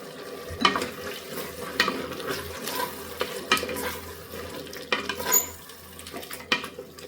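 Curd being added to softened, cooking tomatoes and stirred in a pan for tomato bath: a close, scraping stir repeating in uneven strokes over a light sizzle.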